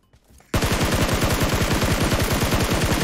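A sustained burst of rapid automatic gunfire in PUBG Mobile starts abruptly after a brief quiet moment, with loud, evenly spaced shots that continue without pause.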